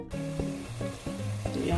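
Peeled boiled eggs fry in hot oil, giving a steady close sizzle with several soft, hollow tonal pops and bubbling notes recurring every half second or so.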